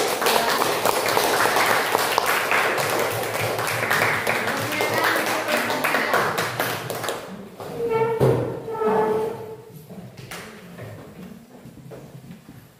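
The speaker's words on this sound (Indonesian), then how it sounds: "Tepuk tangan untuk kelompok" Classmates applaud a presenting group in a social studies class, a loud, dense wash of overlapping claps lasting about seven seconds before fading, followed by scattered thumps and speech-like sounds.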